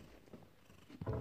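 Kittens purr quietly up close in a soft, low rumble that grows a little louder and fuller near the end.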